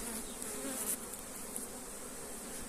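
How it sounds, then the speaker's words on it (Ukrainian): Dense, continuous buzzing of many honeybees close by at an open hive with frames being handled, a steady droning swarm with no voices. "льотна бджола злетить"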